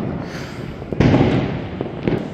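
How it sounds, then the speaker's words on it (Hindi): Diwali firecrackers burst around a neighbourhood, one sharp loud bang followed by a few smaller pops against a steady background crackle of distant fireworks. "यहाँ पे भी सब बम वगैरह फूट रहे हैं"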